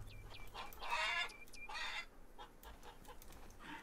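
A chicken in the farming video game Farmer's Dynasty clucks in a string of short, repeated calls, fairly close, with a few louder bursts of chatter before it fades.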